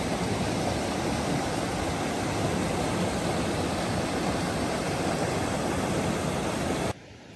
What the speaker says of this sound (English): And just behind me is the river that we could hear.